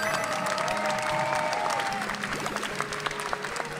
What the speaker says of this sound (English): Round of applause for Hydrant.